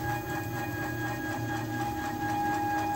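DIY CNC router gantry with a heavy 1600 oz-in stepper motor traveling on Hiwin linear rails driven by ball screws, giving a steady close whine with fixed motor tones over a low rumble, with no voices.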